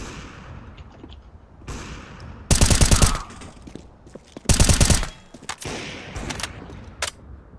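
A decoy grenade in Counter-Strike mimics gunfire with two loud, sharp bursts of rapid automatic shots a couple of seconds apart, surrounded by quieter game ambience and scattered distant pops.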